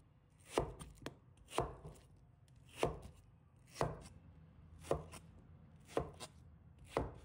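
Knife chopping winter melon into small pieces on a cutting board, seven crisp, evenly spaced thuds with a few lighter taps between, close and alone.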